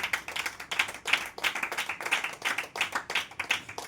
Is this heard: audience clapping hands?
yes